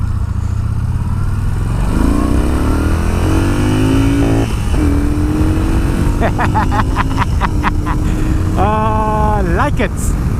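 A Yamaha XV950 Racer motorcycle engine revs up and down repeatedly, loud and close, its pitch climbing and falling in surges, with a person speaking over it.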